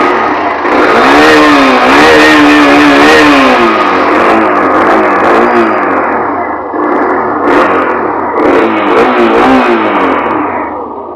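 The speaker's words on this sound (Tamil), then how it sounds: "ஸோ எக்ஸாஸ்ட் நோட் கேட்டிருப்பீங்க" Hero Xtreme 125R motorcycle engine revving through its exhaust, a loud, close, steady drone with rising and falling pitch sweeps as the throttle is blipped, no voices over it.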